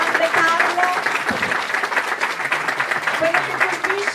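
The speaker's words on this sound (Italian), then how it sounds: "vorrei un applauso sentito forte" Broad, steady crowd applause fills the whole stretch, loud and dense, with a few voices and whoops mixed in.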